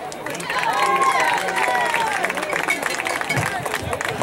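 Crowd at a high school football game cheering and shouting in a sustained, loud roar of many voices, with scattered whistles and yells rising over the din.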